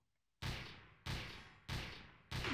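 Gunfire in the video game Trouble in Terrorist Town: four loud, booming shots spaced roughly 0.6 seconds apart, each with a sharp attack and a long decaying tail, with no talk over them.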